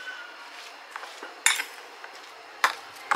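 Grated potato and paneer paratha stuffing is mixed in a bowl, with soft stirring and two sharp clinks of a utensil against the dish, then quiet between them.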